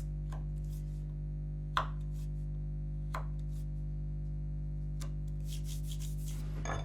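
A wood chisel pares a small trough into a board for a housing dado joint, making several short, soft scraping strokes spaced a second or so apart over a steady low hum.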